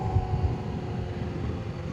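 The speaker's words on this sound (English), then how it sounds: "don't know if you can hear me over the engine" A Kawasaki Ninja H2 motorcycle engine runs as a steady, close low drone mixed with rushing wind noise, with no rise or fall in pitch and no voices.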